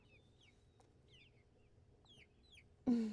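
Silkie chickens in a chicken tractor give soft, scattered clucks and chirps close by over low background hum, ending in a sudden louder rustle.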